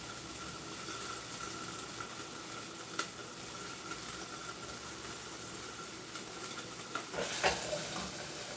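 Onions fry in a pan with a constant soft sizzle and hiss, heard close up, with a few faint clinks and stirring sounds and a brief louder scrape near the end.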